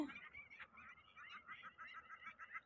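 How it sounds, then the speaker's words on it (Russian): Repeated honking calls of waterfowl, steady and fairly loud, overlapping in a continuous chorus with no pauses. "Красивейшие утки."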